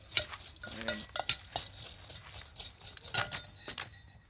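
Puffed-rice bhel with chopped onion is tossed and stirred in a bowl with a spoon by a street snack vendor, giving quick scraping, rustling and clinking strokes that are close and busy for a few seconds without talk.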